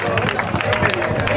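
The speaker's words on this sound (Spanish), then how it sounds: "¡El aplauso fuerte!" Crowd applause at the start of the third stage of an off-road mountain bike race in San Pedro de Alcántara, lively clapping mixed with loud crowd chatter and an announcer's voice throughout.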